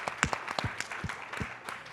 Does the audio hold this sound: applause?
yes